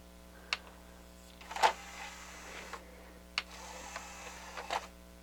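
A Harman Kardon HK 720 CD player's tray loading mechanism under repair, heard as quiet mechanical clicks and brief whirring motor bursts in two separate cycles over a low steady hum.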